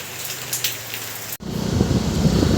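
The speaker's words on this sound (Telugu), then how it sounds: "వర్షం పడుతూనే ఉంది పడుతూనే ఉంది" Steady rain patters down at night in Goa, then after a brief cut it becomes a louder, denser downpour drumming close by.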